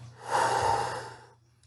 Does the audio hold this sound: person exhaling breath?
yes